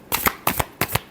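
Tarot cards being shuffled in three quick riffling bursts, each crisp and close, with short pauses between them and no voices.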